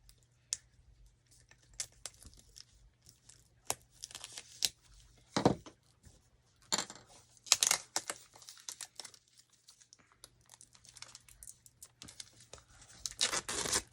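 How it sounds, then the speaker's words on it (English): An X-Acto knife slices and tears open the shrink wrap on a hippogriff model kit, giving scattered crinkling, ripping and sharp plastic clicks at close range, with no talking. "It's shrink wrapped. So let me grab my handy dandy X-Acto knife."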